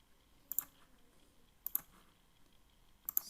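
Three separate pairs of sharp computer mouse clicks sound about a second apart in a quiet room, close but faint, with no talking.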